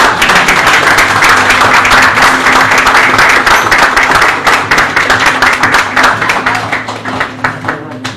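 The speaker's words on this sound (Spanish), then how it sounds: "aplauso." Audience applause at a regional young entrepreneur award ceremony in General Deheza, dense clapping that stays loud and steady before thinning out toward the end, with a low steady hum beneath.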